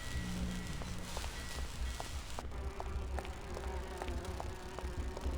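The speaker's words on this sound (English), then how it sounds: "These bees don't seem too busy." Insect buzzing like bees in the video game Grim Fandango Remastered, a steady droning hum with soft repeated ticking steps, moderately quiet and without voices.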